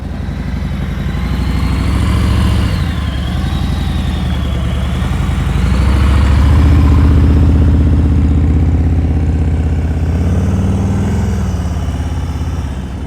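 A motorcycle engine running at low speed during slow-speed riding practice, a loud, steady, close rumble with a slight rise and fall in pitch and no talk.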